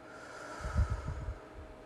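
A person breathing deeply during a guided relaxation, one slow breath drawn in and let out, close and soft, with no talk.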